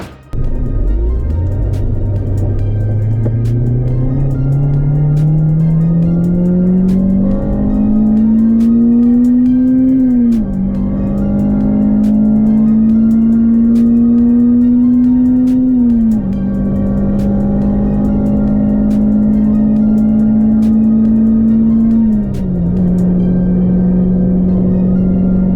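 An Acura RSX engine with a new intake revs up loudly and holds a steady drone, with its pitch stepping down and climbing again a few times as it runs alone.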